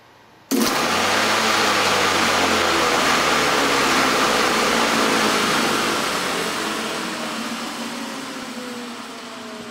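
An electric motor's commutator brushes arcing as it breaks down: a loud, steady crackling roar with a motor hum that starts abruptly after half a second and slowly fades toward the end.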